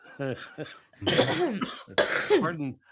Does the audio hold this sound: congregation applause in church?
no